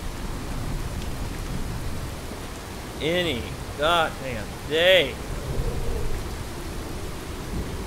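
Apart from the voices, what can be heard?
rain and thunder in a video game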